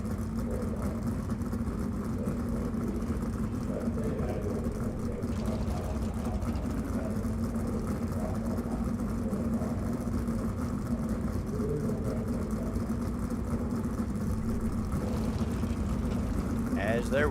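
Race cars idle on the grid at Weedsport in the iRacing sim, a steady low engine rumble holding throughout while a commentator talks over it.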